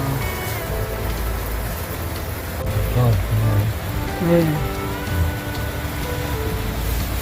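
Steady rain pattering on a car rooftop tent atop a Staria van, an even close hiss of drops running throughout while people talk quietly beneath the tent.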